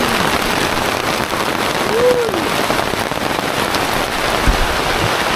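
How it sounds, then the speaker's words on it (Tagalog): Steady rain patters on surfaces all around, a dense constant hiss with occasional heavier drops. "Sana lumakas na ang ulan."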